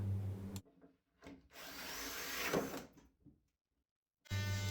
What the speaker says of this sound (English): I'm just using a multi-tool just to cut a little notch